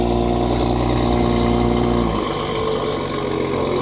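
A BMW B58 engine with a stage 2 tune revs hard, holding a loud, droning mechanical tone that drops sharply partway through and settles into a rougher, lower rumble.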